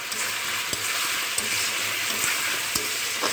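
Pona fish cooking with papaya in a pan, stirred and sautéed: a continuous close sizzle with sporadic scraping clicks of the spatula against the pan, no voices.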